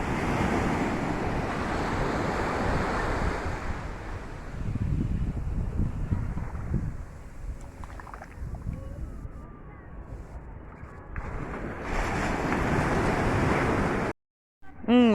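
Sea waves roll onto Somnath beach, a broad steady wash of surf mixed with wind buffeting the microphone, easing off midway before the loud rush returns and then cuts out.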